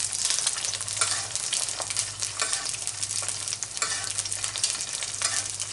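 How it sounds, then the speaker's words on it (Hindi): An egg half-frying in a pan of hot oil, with more hot oil spooned over the top, gives a steady loud sizzle and crackle, with bright spitting bursts riding over a low hum throughout. "इस तरह से ऊपर थोड़ा सा गरम तेल डाल देंगे।"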